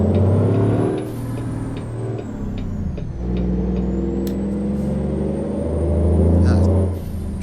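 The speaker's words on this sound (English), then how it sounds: "That truck does sound good." A heavy hauler truck in American Truck Simulator gives a deep, steady engine drone that shifts pitch as it pulls through the gears, with a brief air-brake hiss, loud and close throughout.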